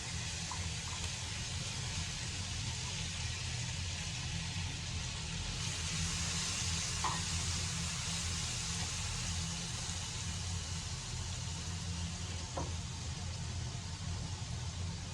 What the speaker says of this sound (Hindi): बहुत ही छोटे साइज़ की एक प्याज चॉप करके ली है मैंने, इसको फ्राई करेंगे